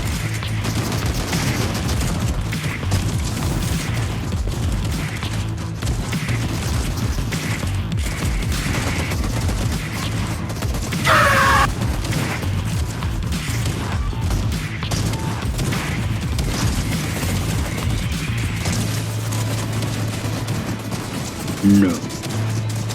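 Gunfire in the video game Fortnite, first-person map, heard as a dense rattle of shots and bursts under a steady mechanical hum, with a brief sharper crash near the middle and end and voices talking over it.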